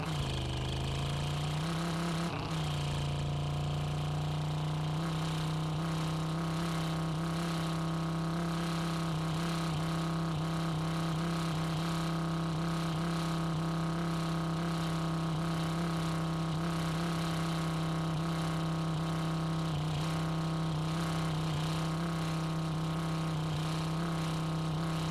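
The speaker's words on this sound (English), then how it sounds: "leaving the car idling while I was taking her out" A car engine idles after starting with a brief rev, then settles into a steady, close, monotonous hum that holds unchanged for about twenty seconds with no voices.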